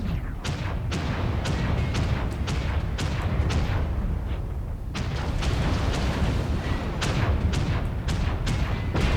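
Mech weapons firing in the online combat game MechWarrior Online, a dense, continuous barrage of loud booming blasts and sharp cracks with repeated impacts and rumbling explosions throughout.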